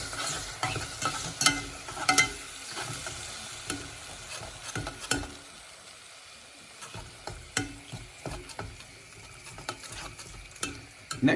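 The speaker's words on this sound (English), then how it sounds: "Give that a good stir." Three eggs fry with browned ingredients in a pan for tomato spinach pasta, a soft sizzle under repeated scraping stirs and clatters that pause briefly midway before resuming.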